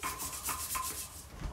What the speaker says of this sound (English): So I'm scrubbing.